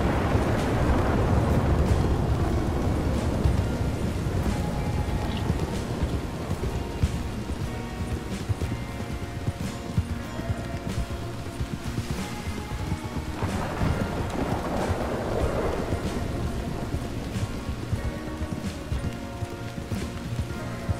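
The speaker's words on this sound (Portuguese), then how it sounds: "Começou a chover." Steady rain with rolling thunder in Red Dead Redemption 2, a continuous wash of rainfall filling the whole stretch with deep rumbles swelling early and again midway, no voices.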